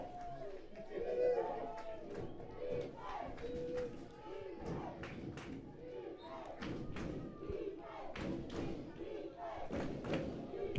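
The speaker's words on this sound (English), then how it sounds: "Hear the crowd" Fans at a 9U PeeWee youth football championship game cheer and shout in bursts, with thuds and chatter from the sideline and a commentator talking throughout.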